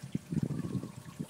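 Water trickles softly into a one-gallon container while a molasses mixture is being prepared, a faint, uneven pouring dribble heard close by at low volume.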